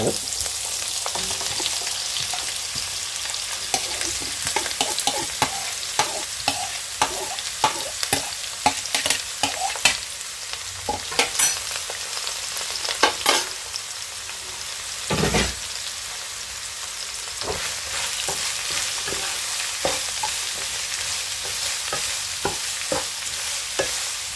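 Onions fry in a pan for chicken curry, giving a steady hissing sizzle throughout with frequent scraping clicks and knocks from stirring.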